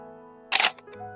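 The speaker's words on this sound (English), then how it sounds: "The shutter clicks one final time" Camera shutter clicking once, a sharp burst followed by two lighter mechanical ticks, set over a quiet background with soft music.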